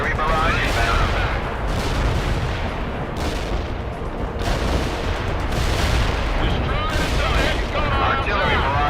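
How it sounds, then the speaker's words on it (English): An artillery barrage in World in Conflict pounds the target area as a loud, sustained rumble of explosions, with several heavier bursts rising and fading one after another through the stretch. "Artillery barrage inbound."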